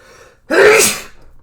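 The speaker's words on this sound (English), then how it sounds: "I sneezed" A single sharp sneeze in the anime Four Knights of the Apocalypse bursts out after a brief quiet intake, loud and close, trailing off into faint background noise.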